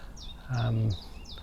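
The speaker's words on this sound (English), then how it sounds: "sedge warblers, goldfinches, chiffchaffs, all sorts of little stuff around" Small birds, sedge warblers, goldfinches and chiffchaffs, give four high, quick chirps at an even pace, with a short low hum partway through.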